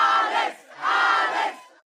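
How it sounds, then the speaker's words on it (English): Centre Court tennis crowd cheering for Alex Eala in a match against Paolini, two loud swelling roars of many voices with a brief dip between them before they cut off. "Center court was cheering for Alex Eala."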